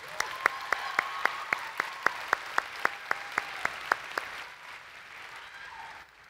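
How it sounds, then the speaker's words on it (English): An audience at a state convention session claps for the session sponsors in a steady, rhythmic unison beat, then the clapping stops and only faint room noise remains. "Please join me in one last round of applause for all their generous support"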